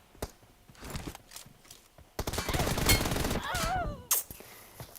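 Gunfire in PUBG Mobile played on an iPhone 14 Pro: rapid bursts of shots and shorter single cracks across the clip, loud and close, with a brief rising whistle-like effect near the end.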